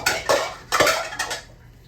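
A spoon clinks and scrapes against a bowl while shredded cheese is mixed for enchiladas, in three short, close bursts that fade toward the end, with no talking.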